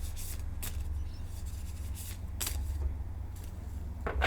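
Tarot cards are being shuffled by hand, giving soft, quick riffling bursts and light rubbing that come in a few separate, faint passes over a low background hum, close to the listener.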